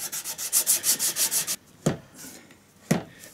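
Emery cloth rubs back and forth on a surface in about eight quick rhythmic strokes, close and scratchy, followed by a pause and two separate single swipes.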